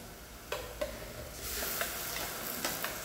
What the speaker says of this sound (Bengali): এখন আমি উপর থেকে যে পেস্টটা করে গেছিলাম মিক্সারের মাধ্যমে, সেই পেস্টটা এখন আমি এতে ঢেলে দেবো।